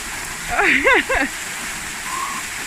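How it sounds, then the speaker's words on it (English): A waterfall at an exposed, slippery outdoor camping spot gives a constant broadband rush. A voice briefly speaks over it near the start, then the water carries on alone. "You've got a waterfall."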